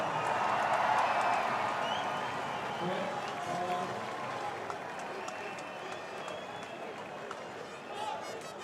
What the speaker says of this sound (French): Je crois que c'est tout Bayonne qui vous applaudit encore une fois